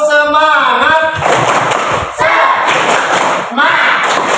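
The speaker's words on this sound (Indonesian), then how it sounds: "Kita kasih tepuk biar semangat." A classroom of students claps a rhythmic ice-breaker pattern in loud, close bursts, with voices chanting along in between.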